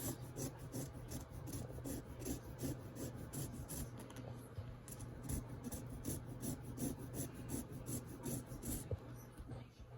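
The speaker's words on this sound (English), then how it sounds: "We're going to zest the lime and half peel" A lime being zested while cooking southwest pork bowls: quiet, close, rhythmic rasping strokes that repeat steadily against the peel, with no talking over them.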